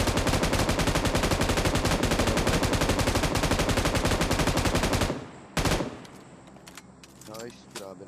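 An M249 machine gun fires in a long sustained automatic burst in a video game, rapid even rounds for about five seconds, then a brief final shot and fading game sounds.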